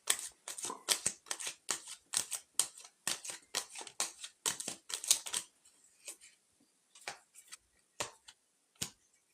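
Tarot or fortune-telling cards being shuffled, a quick run of crisp, close riffling flicks that thins out into scattered single snaps, with no talking.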